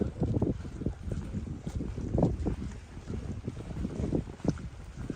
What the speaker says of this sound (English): Sorry if the wind picks up.